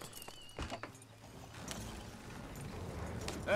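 Horses' hooves clip-clop on the ground in Red Dead Redemption 2, several irregular hoofbeats at moderate distance amid faint ambient background and occasional mechanical clinks.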